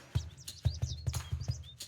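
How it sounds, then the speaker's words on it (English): Morning birdsong with several quick, bright chirps and tweets in an irregular rhythm, fairly close and clear over a soft low background hum. "The gentle chirping of the birds was like nature's alarm clock, coaxing me out of my slumber"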